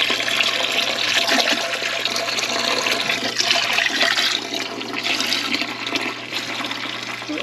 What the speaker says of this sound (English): We're gonna put the whole gallon of vinegar in here.